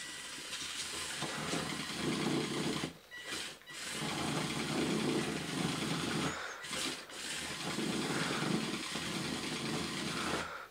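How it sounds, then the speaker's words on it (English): Electric motors of a radio-controlled Volvo A40D model dump truck strain and whine steadily at close range, with two brief drops where the drive cuts out before resuming. "we're slowing down the motors on the right hand side of the model, so that might cause it to struggle slightly"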